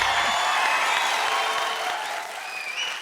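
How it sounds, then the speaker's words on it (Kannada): Enthusiastic studio audience applause welcomes actress Shruti onto the Kannada TV comedy show Majaa Bharatha, a dense loud burst of clapping with some crowd noise that gradually eases toward the end. "ಶ್ರುತಿ ಮೇಡಮ್ ಅವ್ರಿಗೆ ಜೋರಾಗಿ ಚಪ್ಪಾಳೆ"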